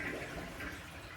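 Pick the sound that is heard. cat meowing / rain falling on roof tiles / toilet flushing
toilet flushing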